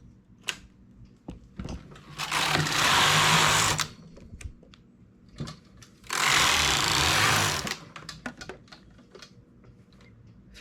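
A domestic knitting machine carriage is pushed across the needle bed in two long sustained rasping passes, each a few seconds long. Small clicks and taps from handling the needles fill the gaps between the passes.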